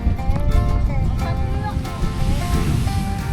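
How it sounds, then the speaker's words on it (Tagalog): Strong wind and crashing sea waves at rocky coastal crags in Agno, Pangasinan make a loud, continuous roar, with faint voices mixed in. "Ang lakas ng hangin. Ay, lakas ng alon."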